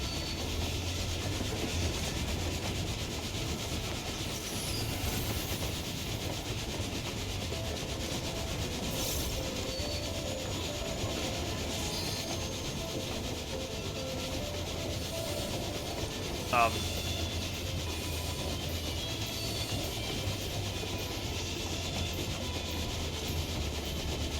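A train in Final Fantasy XIV: Stormblood rumbles steadily at moderate volume for the whole stretch, a continuous low rolling drone with faint scraping texture and one brief sharp squeal partway through.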